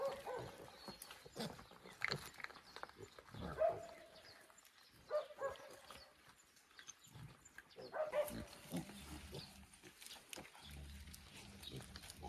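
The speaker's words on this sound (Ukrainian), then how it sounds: "Ось цієї свинки п'ятеро, всі кабанчики." Vietnamese pigs grunt and snuffle intermittently at close range, with scattered thumps and shuffling in between and a few louder bursts.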